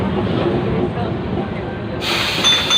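A Kolkata tram rolls along with a steady rumbling, hissing rail noise that brightens near the end, with a voice talking over it.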